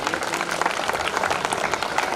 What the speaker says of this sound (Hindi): कृपया तालियां जरूर बजाएं।